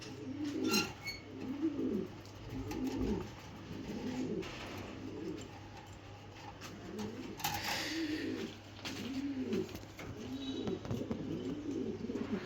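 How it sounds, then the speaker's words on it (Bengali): Pigeons cooing steadily in a loft, with repeated rhythmic low coos rising and falling throughout, fairly close and continuous, with some faint chirps and background noise. "আমার অনেক টাকার একটা কবুতর এটা"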